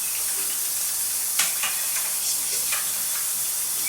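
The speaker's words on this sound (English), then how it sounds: "Let me rinse my hands." Tap water runs steadily over hands being rinsed in a home kitchen while making an apple, walnut and chicken salad, a continuous close hiss with a few brief splashes and clinks.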